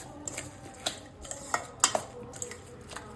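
A spoon mixes semolina and curd batter in a bowl, with soft stirring and scraping punctuated by several sharp, close clinks against the bowl's side.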